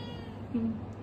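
A large cat gives a single short, fairly quiet meow over low background hum.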